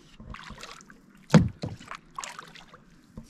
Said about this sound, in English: See if I can paddle while I'm filming.